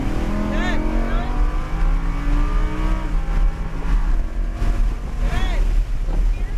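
A Lamborghini Huracan LP610-4 accelerates down a track straight as a loud engine roar climbs through the gears from inside the cabin. Wind rush and an instructor's voice run underneath.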